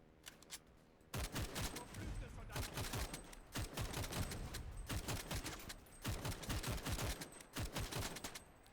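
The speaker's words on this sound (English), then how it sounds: "Now that is the very rare 1915 German semi-automatic rifle" A rare 1915 German semi-automatic rifle fires in the WWI game Over The Top, mixed into dense battlefield gunfire with bursts of sharp cracks and rattling volleys, fairly quiet overall, with a short pause before the shooting picks up.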